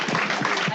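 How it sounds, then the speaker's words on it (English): Audience applause at a gathering, a steady dense wash of many hands clapping together, continuous and fairly loud throughout the short burst. "let's just give them a round of applause real quick"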